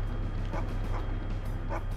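Dog barking in the video game Geist: three short yips or barks spaced about evenly over two seconds, moderately loud above a steady low game background hum.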